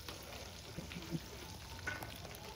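Garlic ginger paste fries with cumin seeds in hot oil for a traditional bhogichi bhaji, giving a faint, steady sizzle with a few soft crackles and a light clink of a utensil.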